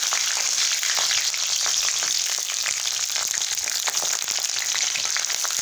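Steady, loud sizzling of spices frying in hot oil, a dense crackling hiss with scattered pops throughout and no voices.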